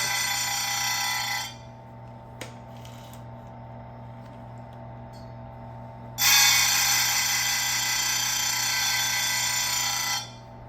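Silvey square chain grinder running in two long, loud, steady grinding passes against a saw chain tooth, separated by a quieter stretch with a faint hum and a brief click.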